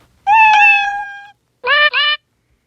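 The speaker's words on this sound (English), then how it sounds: "searching up meow because that's his voice" A synthesized cat meow sound effect from Scratch plays clearly and loudly, one long meow followed by a shorter two-part meow, with silence around them.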